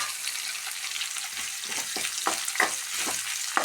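Chopped onion and dried red chilies fry in hot oil with a steady, close sizzle, broken by several soft stirring scrapes near the end.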